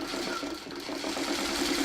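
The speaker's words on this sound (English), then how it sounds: "And I am sewing right on the line." Sewing machine stitching a quilt block, a steady close mechanical whirr with a rapid rhythmic needle chatter running continuously and alone.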